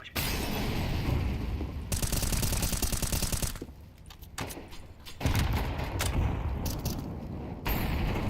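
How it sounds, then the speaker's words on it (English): Gunfire crackles in rapid bursts alongside sharp blasts in a tactical shooter video game, including a flashbang grenade; loud stretches break off into brief lulls before firing resumes, with almost no talking. "Grenade out. Deploying flashbang."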